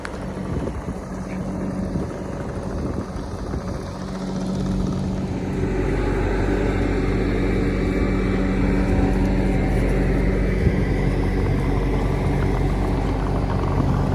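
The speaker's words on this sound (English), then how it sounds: "I have to get this hay off the skid steer." Skid steer loader engine running while moving a hay bale, a steady, loud mechanical drone that rises and thickens partway through and continues without talk.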